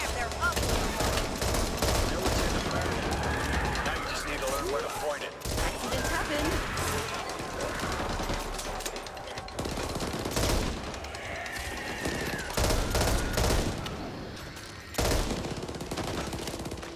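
Rapid bursts of gunfire in the cooperative zombie shooter Back 4 Blood, dense overlapping shots and automatic fire in a continuous loud barrage, with players talking over it.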